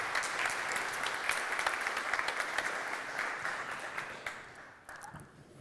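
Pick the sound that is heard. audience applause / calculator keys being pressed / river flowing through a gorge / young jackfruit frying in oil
audience applause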